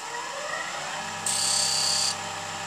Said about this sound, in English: I've got just a standard spindle turning gouge here